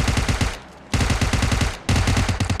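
UMP submachine gun fire in PUBG Mobile: two fast, loud automatic bursts separated by a brief pause, each a rapid rattle of close shots.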